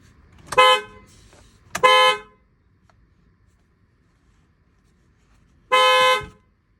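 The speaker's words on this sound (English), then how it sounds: "And this is gonna honk." Tesla Model 3 horn honking after a steering wheel swap: two short close blasts in quick succession, then a third brief toot after a pause, loud and clear over a quiet background.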